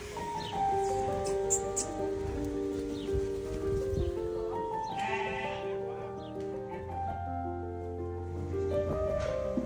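Lambs bleat repeatedly in a pen alongside a large bull, several overlapping high calls at moderate distance, with occasional shuffling and hoof sounds underneath.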